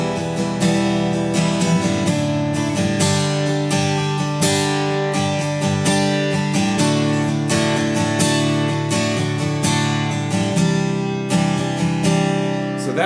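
Acoustic guitar strumming the intro chord progression of a worship song, dense, even down-up strokes, loud and close throughout with no voices.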